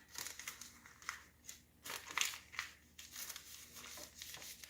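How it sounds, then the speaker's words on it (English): Sheets of paper being folded in half and creased to form a small planting vessel, with a series of soft crinkling and rustling bursts up close. "Now we're going to take our bottom, fold it in half"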